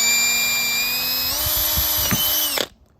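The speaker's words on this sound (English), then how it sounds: "So that's how you drill in PVC." A power drill bores a hole through a PVC cap with a close, steady high-pitched whine that steps up slightly in pitch midway, then cuts off sharply after under three seconds.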